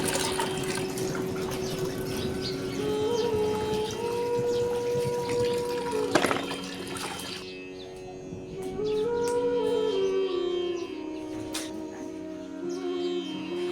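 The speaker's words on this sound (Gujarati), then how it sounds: "ટીંડોળા અને બટાકાને ચોખ્ખા પાણીથી ધોઈ નાખીશું" Ivy gourd and potatoes washed in clean water in a kitchen, a steady running-water and splashing sound throughout, with a short dip in the flow midway and faint background noise.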